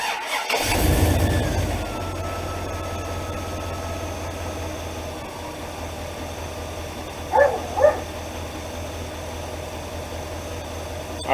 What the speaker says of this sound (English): we'll go ahead and start the engine and see